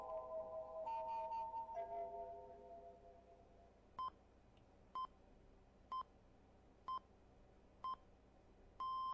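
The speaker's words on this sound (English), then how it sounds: "Oh, it was an alarm." Inside the Nintendo Switch game League of Enthusiastic Losers, an alarm gives a steady series of six short, evenly spaced electronic beeps. Softer chiming tones come before the beeps, and the sound is faint and alone.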